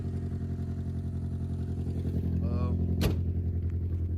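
A rebuilt-bound turbocharged Honda Accord with a K24Z3 engine idles steadily as it warms up, a loud, close, continuous engine drone with a rough pulsing texture and a brief clack near the end.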